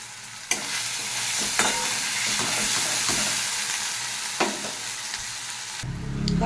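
Chopped tomato frying with cumin, ginger-onion paste and salt makes a loud, continuous sizzle with occasional spatula knocks against the pan, ending in a brief low rumble, with no one talking.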